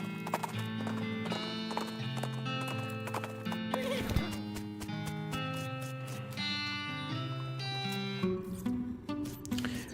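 A cart horse's hooves clip-clop at a steady walking rhythm in the video game West of Loathing, playing over bright tonal background music.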